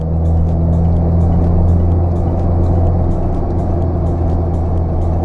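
A car engine pulling uphill on a winding road, heard from inside as a loud steady drone with a low tonal hum and faint rhythmic ticking throughout.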